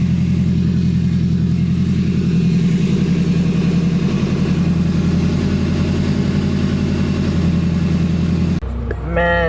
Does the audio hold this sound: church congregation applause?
no